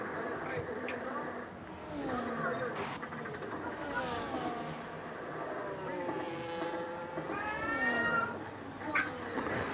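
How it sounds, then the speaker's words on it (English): Domestic cats meow repeatedly in a room, their rising and falling calls close and fairly loud, overlapping one another amid some background noise. "Ignore my cats meowing."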